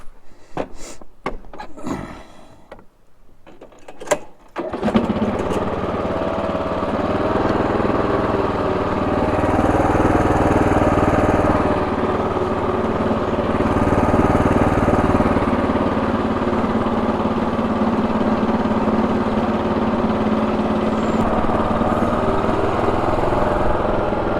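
A riding lawn mower engine runs steadily and fairly close while dragging a pond aerator diffuser across a yard on a windy day, a continuous droning hum that starts after a few seconds of brief clattering.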